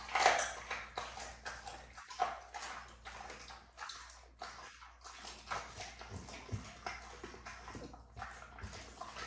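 A dog gnaws and crunches raw chicken bones up close, with wet chewing, cracking and smacking continuing steadily with no talk.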